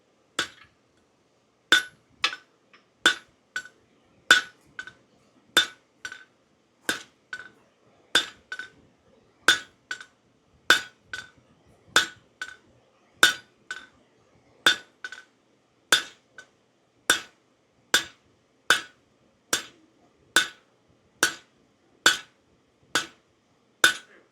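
Steel hammered over a rounding die and the horn of an anvil, sharp ringing metallic strikes repeating in a steady rhythm, mostly single blows with some quick doubles, clear and close with near silence between.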